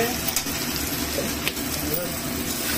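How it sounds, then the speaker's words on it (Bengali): Spices sautéing in a pan for a bhetki fish curry with kochu give a steady close sizzle and hiss that runs through the whole short stretch, with a voice talking over it. "এই যে মশলা দিয়ে কষানো হচ্ছে"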